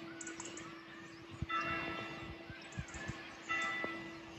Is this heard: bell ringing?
yes